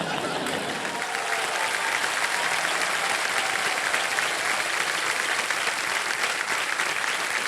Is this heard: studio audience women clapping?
yes